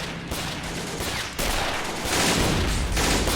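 Machine gun fire and battle noise in Men of War: Assault Squad 2, a World War II strategy game set during a 1945 German assault, with continuous dense automatic bursts that grow louder toward the end.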